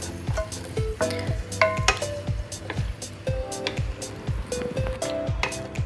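Onion joins garlic and pork in a hot pan for pork bagoong, sizzling steadily up close with repeated scraping stirs and clinks of a utensil against the pan.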